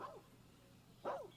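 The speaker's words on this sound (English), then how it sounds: "Is that cat barking at me?" A sand cat in the Planet Zoo video game gives two short barking calls, one faint and one louder about a second later, over a steady low game hum.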